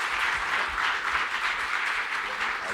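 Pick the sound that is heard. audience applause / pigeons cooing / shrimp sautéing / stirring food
audience applause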